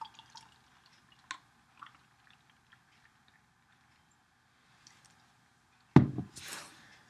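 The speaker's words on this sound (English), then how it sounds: "gotta love the pouring sound you get out of a champagne bottle, even when it's beer" Dogfish Head Birra Etrusca Bronze beer pours from a champagne bottle, a loud gushing, fizzing burst near the end after several seconds of faint ticks and quiet clinks.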